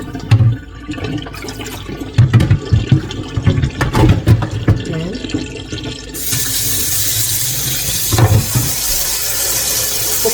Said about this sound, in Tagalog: pupunuin ito natin ng tubig.